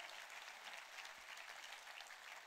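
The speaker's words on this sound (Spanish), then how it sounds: "Dale un aplauso al Señor, por favor." A church congregation applauding during a worship service: steady, dense clapping from many hands that fills the whole short stretch without pause.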